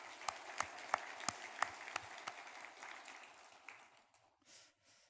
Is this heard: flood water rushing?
no